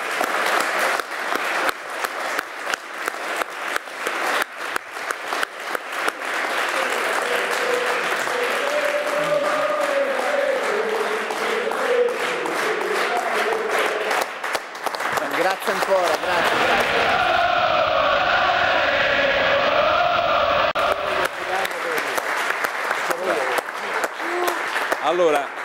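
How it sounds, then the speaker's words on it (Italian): Sustained studio audience applause on an Italian TV show, with dense clapping and some cheering and voices over it, swelling in the middle before settling back to steady clapping. "Un applauso al grande Aprizio Pepe."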